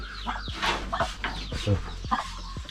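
About ten ducks at a small hut beside a rice field make close, loud, repeated clucking, quacking calls in irregular bursts, with no talk.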